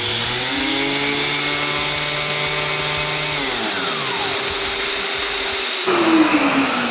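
A Festool ETS 125 random orbital sander runs with a steady whining hum that shifts pitch midway as it spins down and changes tone, sounding close and constant without speech.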